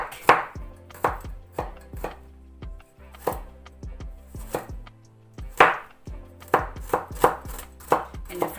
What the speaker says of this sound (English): Cut small pieces of the garlic.